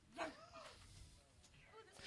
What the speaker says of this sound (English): That's Sophie, the one barking like a dog in the back.